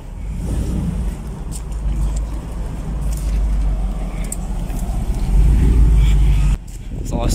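A Mercedes SLR Stirling Moss rolls into a garage in Munich, its engine a loud, continuous low rumble that swells slightly toward the end before dropping off, with no one speaking over it.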